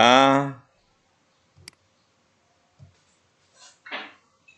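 A computer mouse clicks once sharply while logging into the Microsoft Educator Center website, with a couple of faint soft taps after it. A short burst of speech comes first, and a quiet vocal sound follows near the end.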